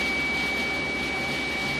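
A warm VR4 car engine idles at normal operating temperature, around 800 RPM, giving a faint, steady mechanical drone with a constant whine running through it.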